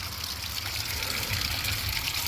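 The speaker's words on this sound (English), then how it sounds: "Well, as we can see, the water's pouring out of there" Water gushes steadily from a lawn sprinkler system line during a spring start-up, a continuous close hiss and splash with no break and no one speaking.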